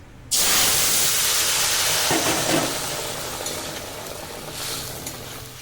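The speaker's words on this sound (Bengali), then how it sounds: "জিওল মাছের ঝোলে ফোড়ন দেব কালো জিরে আর গোটা গরম মশলা একটা তেজপাতা দিয়ে দিচ্ছি" Black cumin, whole garam masala and a bay leaf hit hot oil with a sudden loud sizzle that stays strong and steady, easing slightly over several seconds, tempering for a light Bengali fish curry with raw banana.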